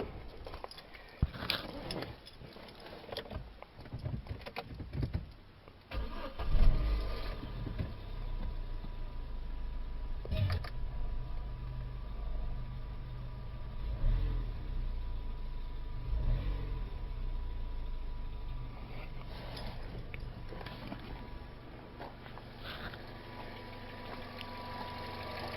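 A Vauxhall Meriva MK2 with freshly replaced ignition coil pack and spark plugs cranks with a few bursts, catches and then settles into a steady close idle, without talking.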